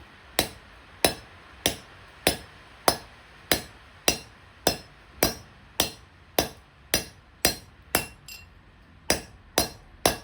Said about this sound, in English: I'm just hammering onto the old bearing race so I don't damage the bearing itself